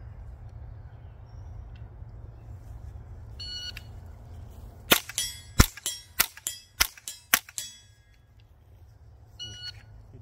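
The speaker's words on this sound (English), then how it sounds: "You're going to shoot 5 and 5 rounds only on the buzzer." Ten suppressed gunshots from a Silencerco Sparrow on a shooting range, fired at a steady pace as two quick strings of five, sharp close cracks over low ambient hum, with brief beeps from a shot timer before and after.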